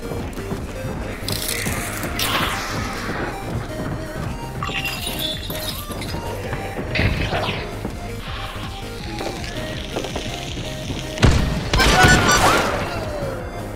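Gunfire in the video game Hunt: Showdown, several sharp shots and crashing impacts scattered over a busy, noisy game soundscape, with one loud burst near the end.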